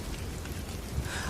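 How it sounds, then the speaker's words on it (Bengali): Light drizzle patters in a steady, even hiss, with no voices and no other sounds. "ঝিরিঝিরি বৃষ্টি পড়ছে।"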